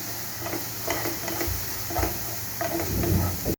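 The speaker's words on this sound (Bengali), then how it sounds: "মশলাটাকে আমি আবার একটু নাড়িয়ে দিলাম।" Spice paste of salt, turmeric, chili and cumin powder being stirred and fried in a pan for an egg omelette curry, with a continuous sizzle and repeated soft scraping strokes at an uneven rhythm.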